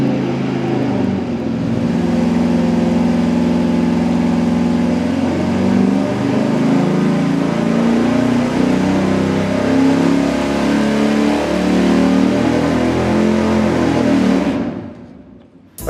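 A low-compression 440 V8 on an engine dyno fires up and holds a loud, steady roaring run at high revs for about fourteen seconds, then cuts off abruptly near the end.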